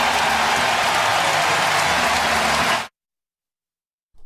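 A baseball stadium crowd roars as the San Francisco Giants take the lead against the Cleveland Guardians, a dense, loud wall of cheering for about three seconds that cuts off abruptly into silence.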